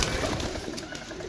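Pigeons cooing close by at a pigeon seller's in Sarai Alamgir, Pakistan, a soft low continuous murmur with faint background noise and no talk.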